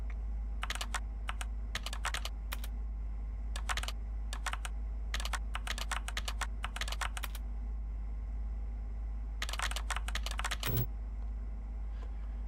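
Bursts of typing on a computer keyboard, quick clusters of keystrokes separated by short pauses, close and fairly quiet over a low steady hum, with no talking.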